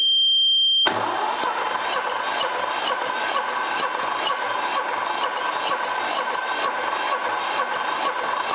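A Hatz diesel engine runs steadily close by, a rough rhythmic chugging at idle that continues evenly throughout, with a brief high tone before it.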